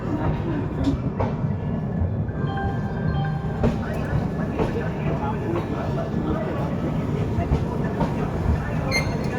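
A Gitanjali Superfast Express train rolls into Nagpur Junction with a loud, continuous rumble of railcars and clicking wheels over rail joints. A voice speaks briefly over the noise.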